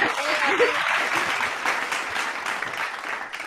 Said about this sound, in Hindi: आप लोग सब 2 बार ताली बजाएंगे।